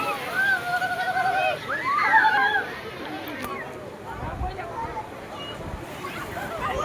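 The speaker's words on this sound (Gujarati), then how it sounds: "મોજ આવી રહ્યા છે." Waves slosh and splash at Gomti Ghat in Dwarka, a steady wash of water with crowd chatter and voices from bathers mixed throughout.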